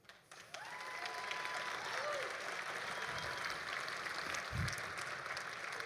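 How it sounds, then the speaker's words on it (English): Crowd applause at a live RAGBRAI route announcement, broad sustained clapping from a sizable audience heard at moderate distance, with a few whoops and bits of voices mixed in. "Let's do one more huge round of applause"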